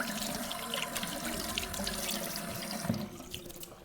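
Tap water runs steadily into a sink while a face is wetted before a late-August wet shave, a continuous close splashing hiss with no talk.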